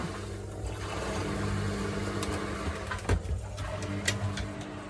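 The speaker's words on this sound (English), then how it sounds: "So this water's draining down and then it will start spinning, doing its thing." A washing machine in a Jayco Journey camper drains its water before the spin cycle, a steady low hum with gurgling and a few soft knocks, fairly quiet and with no talking.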